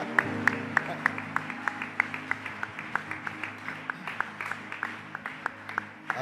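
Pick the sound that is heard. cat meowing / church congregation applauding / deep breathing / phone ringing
church congregation applauding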